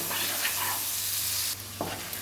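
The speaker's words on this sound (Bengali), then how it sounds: "পেঁয়াজটা ভালো করে লাল লাল করে ভেজে নেব" Onions frying in oil in a pan for a mutton curry, a constant near sizzle that dips briefly near the end, with faint stirring and no voices.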